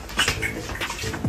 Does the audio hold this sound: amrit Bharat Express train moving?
no